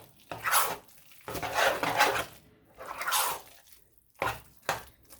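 A spoon stirs grated cheese into homemade perogy filling in a bowl, giving several bursts of soft, wet scraping and mixing with short pauses between them.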